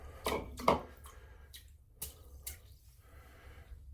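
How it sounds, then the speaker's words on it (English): Water is tipped out of a shave bowl into a sink during a wet shave, a few short splashes and drips close by, then scattered trickles tapering off in a quiet room. "So I'm going to dump my water here."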